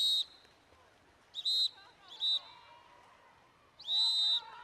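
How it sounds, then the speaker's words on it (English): A referee's whistle sounds during an 18U girls' water polo championship match, with four short, sharp shrill blasts, the last one longer, and faint pool-hall ambience between them. "after the whistle had been blown"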